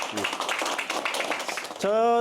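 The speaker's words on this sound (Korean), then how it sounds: "다시 한번 그 노고에 감사의 박수를 좀 청하고 싶습니다. 박수 한번 부탁합니다." Audience applause at a Korean ship battery subsidy event, a busy patter of clapping from a seated crowd that ends abruptly as a speaking voice comes in.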